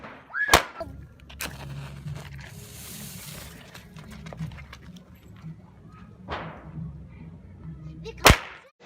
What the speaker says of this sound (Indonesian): Beli mercon kecil ini.